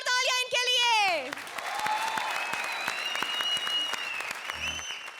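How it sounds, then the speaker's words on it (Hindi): Studio audience applause welcoming finalist performers on a comedy show stage, dense clapping that swells after a sung or spoken musical phrase and carries on steadily with faint tones over it. "जोरदार तालियां इनके लिए।"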